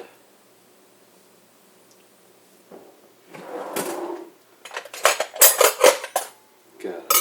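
Getting a knife from a cutlery drawer: a drawer slides open, then loose silverware rattles and clinks sharply in several close bursts, followed by another clatter.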